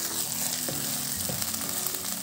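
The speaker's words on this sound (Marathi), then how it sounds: "तेल गरम झालं की त्यामध्ये 1 तमालपत्र आणि विलायची अशी ओढून यामध्ये अशी तेलामध्ये घालून घ्यायची आहे." Bay leaf and cardamom sizzle in hot oil while a restaurant-style methi matar malai is being cooked, giving a steady close frying hiss with a couple of brief sharper pops and no talking.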